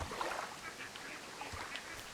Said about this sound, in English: Ducky duck.